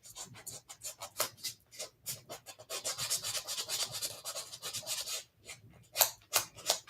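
Rubbing with a higher-grit sandpaper, a series of short close rasping strokes in uneven rhythm with brief pauses between bursts, quiet overall, with no talk.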